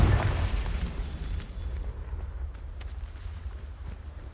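A Confringo spell explosion in Hogwarts Legacy hits with a heavy boom right at the start. The blast then settles into a low rumbling decay with faint crackling debris afterward.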